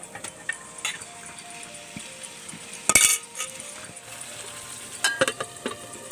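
Mutton dropped into hot oil with browned onions, giving a soft steady sizzle with a sharp splash and clinks of a metal spoon against the pan, close and without talking.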